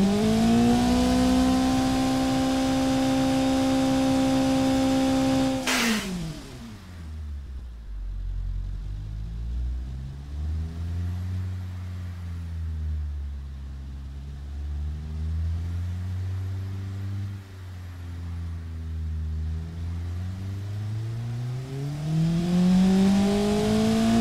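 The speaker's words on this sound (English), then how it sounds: "We've got the engine. I will let you hear it." A virtual car's longitudinally mounted engine in the Automation game holds a high rev, then drops abruptly to a deep idle that swells and falls through several throttle blips, droning loudly with no talk.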